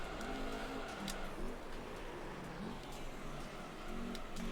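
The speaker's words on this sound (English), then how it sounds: "Whoa, one of the cars is drifting back there." Engine whine and tire skid of a drifting car in the racing video game Gran Turismo 3: A-spec, a steady buzzy roar with squealing slides, a voice speaking faintly underneath.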